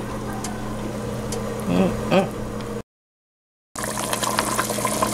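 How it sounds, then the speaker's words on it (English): Homemade meat stock poured into a pot of egusi stew, a steady close liquid pour with a short silent break partway, then more pouring and sloshing. "I'm going to go ahead and pour it inside my stew"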